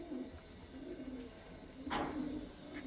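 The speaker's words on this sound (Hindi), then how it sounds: "लाल चीना कबूतर है भाई" A red Chinese pigeon coos softly in a few low repeated calls, close but quiet, with a brief rustle midway.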